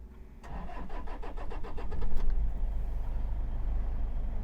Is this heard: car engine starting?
yes